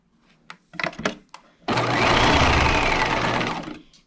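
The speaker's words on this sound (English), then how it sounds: "sewing the second short end and then back stitching" A sewing machine runs in one steady burst of stitching and back stitching along the short end of a removable collar, preceded by a few brief clicks and taps. The motor hum is loud and close.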